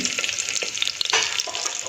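Green chili and garlic sizzle sharply in hot ghee and oil for tempering, a close, bright crackle with quick spits and pops.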